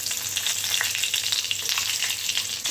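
Garlic and mustard seeds fry in hot oil, producing a dense, loud sizzle with rapid crackling pops that keeps up without pause.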